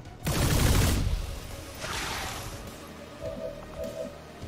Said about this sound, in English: Laser shotgun.